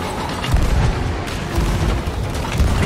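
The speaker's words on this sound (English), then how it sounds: "Cannonballs." Cannon fire during a kraken battle in the video game Sea of Thieves, a dense, rumbling wash of booms and low roar that stays loud and continuous without distinct separate blasts.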